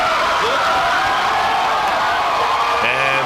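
A Tonight Show with Jay Leno studio audience gives Michael Jordan a standing ovation, a dense, continuous wash of applause and cheering that stays loud throughout, with shouts rising over it.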